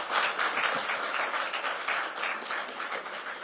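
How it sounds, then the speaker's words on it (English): A television studio audience at a live political interview program in Madhya Pradesh gives steady, dense applause that holds evenly and sustains at moderate distance, with no talking over it. "Let's give him a very warm round of applause today."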